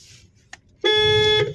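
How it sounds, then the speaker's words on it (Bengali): A car horn sounding one sharp, loud honk held for about half a second after a brief faint clunk, close by on a road. "হ্যাঁ আবার হর্ন দাও"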